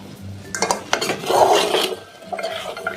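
A spoon stirs spiced vegetables in a pan for a no-onion, no-garlic Shravan meal, with repeated scraping and clinking strokes against the metal at close range and no talk.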